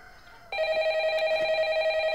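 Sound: telephone ringing

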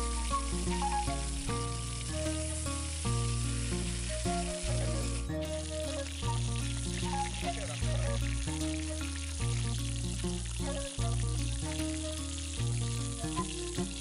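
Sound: fish frying in hot oil

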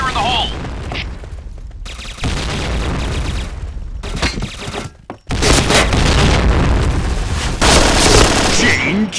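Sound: grenade explosion in a video game

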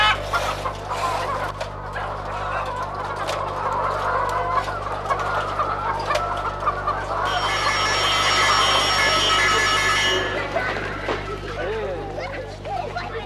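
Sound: chickens clucking on a poultry farm

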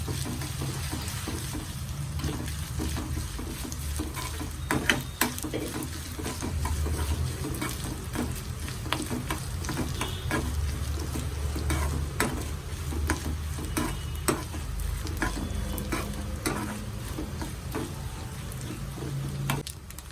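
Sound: grated coconut roasting in a pan for erissery

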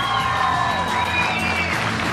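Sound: audience applause at film premiere

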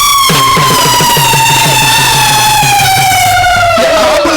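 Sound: ambulance siren sound effect in stage comedy

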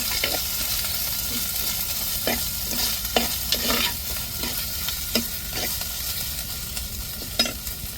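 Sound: ginger garlic paste sautéing with onions in tempering oil

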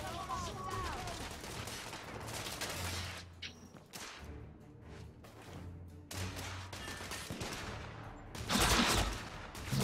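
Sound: gunfire from many shooters in the video game The Order: 1886

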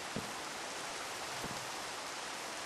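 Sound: rain

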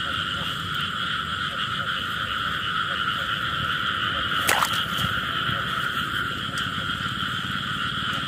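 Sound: frogs croaking at night in the rain

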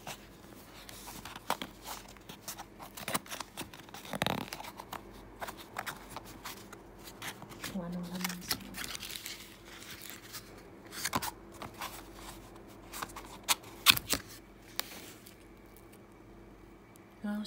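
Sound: opening the packaging of an olive oil soap

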